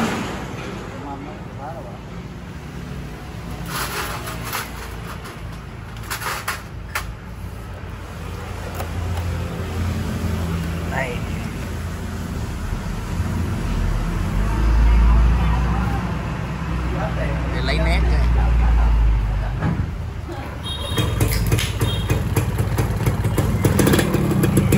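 A modified 1999 Suzuki Xipo motorcycle fitted with electric start fires up and runs, its engine rumbling low and uneven with louder surges near the middle, while people talk close by.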